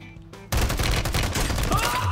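Rapid automatic fire from an SVA 545 rifle in a first-person shooter video game: a sudden, loud, continuous burst of closely spaced shots that starts after a brief quiet moment and keeps going steadily to the end.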